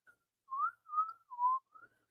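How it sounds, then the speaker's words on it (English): A human whistle carrying among birds on the Lost Coast, four short wavering tones in an uneven sequence, clear and fairly close against a quiet background. "you could hear this whistle in between a lot of birds"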